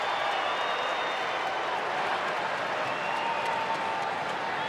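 Steady roar of a rugby league stadium crowd during a Cowboys v Wests Tigers NRL match, a broad continuous wash of cheering and noise with faint commentary beneath, holding level throughout.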